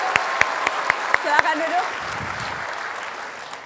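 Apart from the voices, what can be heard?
studio audience applause for two candidates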